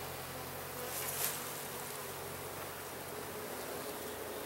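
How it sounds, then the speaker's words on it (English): Honey bees buzzing around a hive nuc during an inspection, a soft, steady hum of many insects throughout, fairly faint and close. "There's a few bees on here."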